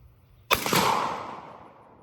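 A shotgun fires a single homemade steel shot load outdoors, one loud, sharp blast followed by a long, fading echo.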